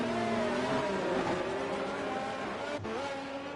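Race cars in an F1 video game accelerate away together at a safety car restart in Australia, a loud steady engine whine with rising harmonics filling the clip, then a brief dip and another upward shift.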